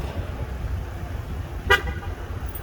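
A car horn gives a single short chirp as the doors are locked with the key fob outdoors. The brief, moderately loud toot sounds over a steady low background hum.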